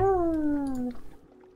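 A sleeping cat lets out a low, drawn-out growling moan that slowly drops in pitch and fades after about a second, with quiet rustling afterward.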